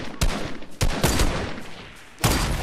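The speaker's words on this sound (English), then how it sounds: "Oh god, he's sniping at me." Sniper rifle shots in the video game Fortnite: three sharp, loud cracks with short echoing tails, at irregular intervals over a steady background of game ambience.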